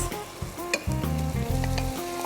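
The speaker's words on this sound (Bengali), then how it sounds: "আমি এবারে দিয়ে দিচ্ছি রাইস" Boiled polao rice drops into a hot pan for a saffron vegetable biryani made with ghee. It sizzles loudly while being stirred, with scraping strokes over the frying hiss and a steady tonal hum running underneath.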